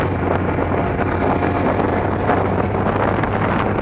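Steady wind buffeting a rider on a Kawasaki ZX-12R motorcycle, a constant loud roar and rush with a low engine hum underneath, no pauses.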